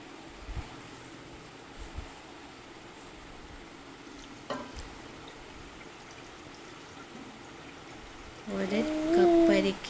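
Water splashes and gurgles into a pot of rice for manthi near the end, a short loud pour after quieter kitchen background with occasional knocks.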